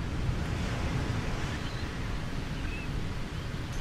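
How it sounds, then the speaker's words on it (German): Steady wind sweeping across the Tara Iti golf course in EA Sports PGA Tour, a constant low rushing noise, fairly quiet and even throughout with no voices. "der Wind ist hier extrem"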